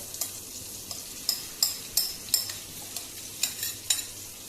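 Pancake batter made with potato sizzles in a butter and oil mix in a pan, a steady close frying hiss broken by sharp intermittent clicks and taps, with no talking.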